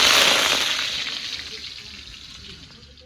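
Potatoes frying in oil in a wok, a loud steady sizzle at first that gradually fades over three seconds, with no talking.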